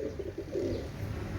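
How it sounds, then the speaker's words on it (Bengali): A pair of Chinese teddy pigeons coo softly in low, rolling repeated calls, close by and steady over a faint background hiss. "ভিউয়ার্স এগুলো দেখেন একজোড়া চীনা টেডি কবুতর মাস্টার পেয়ার"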